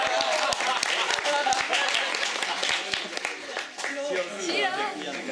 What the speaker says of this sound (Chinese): 所以我们掌声欢迎骑楼